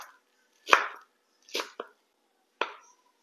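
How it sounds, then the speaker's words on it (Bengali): Knife chopping coriander leaves on a board: three separate bursts of crisp cutting strokes, one a quick double, with short pauses between them. Close and quiet, with no talk. "এবার ধনেপাতাগুলো কুচিয়ে নেব।"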